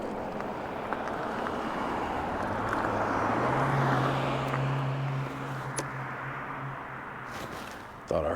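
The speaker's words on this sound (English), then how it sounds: "Thought I heard some big truck coming up the hill there." A big truck labouring up a hill outdoors, its low engine drone rising to a steady rumble and then fading, heard at a distance under wind noise before a brief knock at the end.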